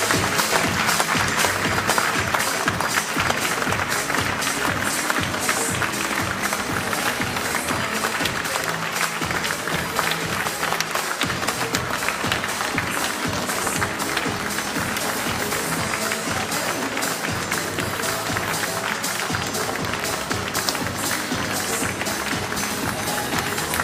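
Audience applause at the Isle of Wight Radio Child of Wight Awards 2017 ceremony, a long, loud and steady roar of clapping from a large crowd filling the hall for over twenty seconds.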